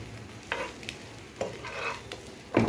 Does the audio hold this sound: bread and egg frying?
yes